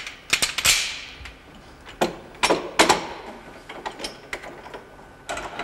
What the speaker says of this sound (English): the clamping device is fastened to the table with the grips facing downwards